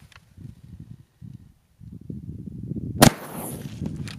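A single sharp 12 gauge shotgun blast firing a Foster slug at a soda target at long range, one loud crack with a short ringing tail over low wind and rustle.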